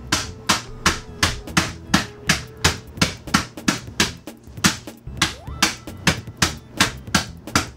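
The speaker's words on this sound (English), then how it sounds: "then you just hit them a few times with a metal spoon" A metal spoon strikes keto cereal inside a gallon Ziploc bag, giving loud, close, steady thuds with a crunchy crack, roughly three blows per second kept up throughout.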